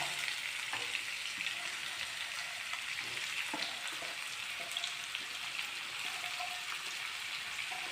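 Sliced onions sizzle steadily in hot oil in a pan, a dense, even crackle with faint scrapes and clicks of stirring throughout and no talking.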